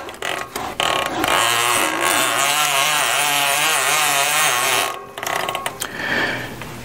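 A road bike chain whirs and ratchets continuously as it is turned and wiped with a rag to clear sand and old oil, a loud close mechanical clicking with brief pauses near the end.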